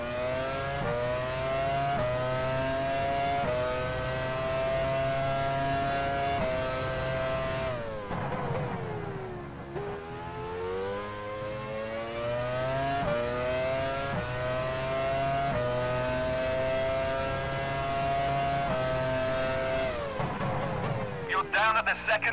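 Race car engine in F1 Challenge 99-02, a 1999 Formula One car at the Canadian Grand Prix, screaming loudly and continuously as revs climb through the gears, dipping around a braking zone before winding back up to a high whine.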